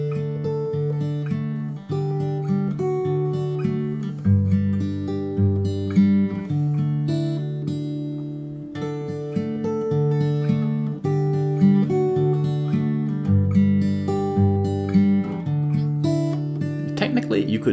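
Acoustic guitar plays a simplified, relaxed version of an intro riff, steady picked notes and chords ringing alone for the whole stretch with no voice over them.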